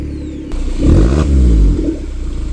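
A Force Traveller van's engine, heard close and loud, swells into a low, rumbling exhaust note that holds for about a second before settling back to a pulsing idle.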